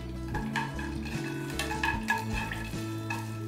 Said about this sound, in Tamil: முந்திரியை போட்டு வறுத்துக்குவோம்.